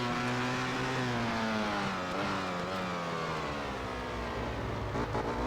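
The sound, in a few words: Ducati motorcycle engine racing in MotoGP 13 video game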